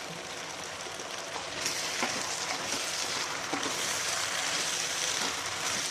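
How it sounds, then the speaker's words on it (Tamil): Field beans and green chillies sautéing in a pan give a steady, close sizzle with soft stirring scrapes throughout, no voices over it. "இந்த மொச்சை இதெல்லாம் நம்ம போட்டு வதக்கலாம்"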